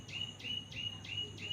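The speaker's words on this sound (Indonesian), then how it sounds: "Suara burung. Burung apa guys?" A bird call repeats five times in a steady rhythm, each a short high chirp, faint against a low background hum.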